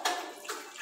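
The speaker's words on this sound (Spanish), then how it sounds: "Hay que sumergirlos así en el agua para que se pueda pegar nuestra" Bricks for a homemade stove being dunked in water before laying with a lime and sand mortar, a short close splashing and sloshing rush with no talk.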